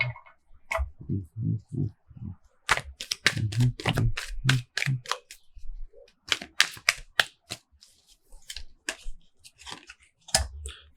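A deck of tarot cards is shuffled in quick, crisp bursts of riffling clicks and rustles, close and fairly loud, with short pauses between the rounds.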